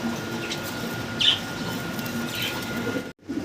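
Spangle Shallow fancy pigeons give a few soft coos against a steady background hum, with a brief break near the end.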